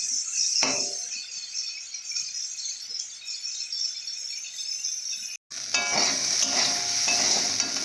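Green beans sizzle steadily in a hot wok with a little turmeric, with occasional utensil scrapes and clinks; after a brief dropout the frying turns louder and busier.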